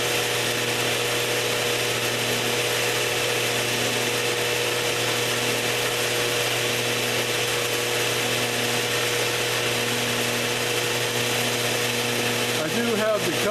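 A 5-axis CNC mill drill running steadily with its spindle cover off, a continuous loud mechanical whine and drone with a link belt turning, as the X and Y axes move without pause.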